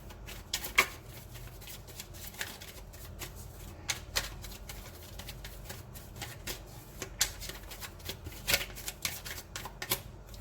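Tarot cards being shuffled by hand, a dense run of soft papery riffles and flicks that rises and falls in quick irregular bursts, close by, with no talking.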